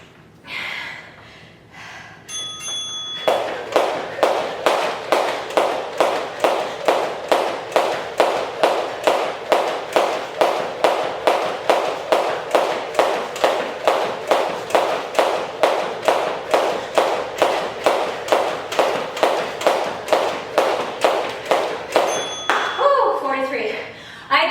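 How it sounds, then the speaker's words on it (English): A weighted jump rope of about a pound and a half whips the floor in a fast, even rhythm during a high-intensity workout, dozens of sharp close slaps in a row, with brief breathing and talk at the start and end. "this weighted jump rope's getting heavy"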